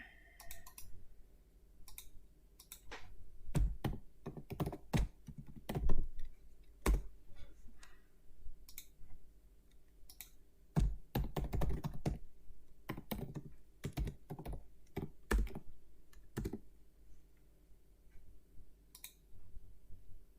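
Keys tapped on a computer keyboard while a job name is entered in photogrammetry software, irregular bursts of quick clicks with pauses between, close and clear in a quiet room.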